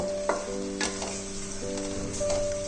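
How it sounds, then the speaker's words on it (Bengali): Spinach sizzles steadily in a frying pan, a close continuous crackle with brief scrapes of stirring and no talk. "আর পালং শাকটা অনেকটা ফ্রাই হয়ে গেছে"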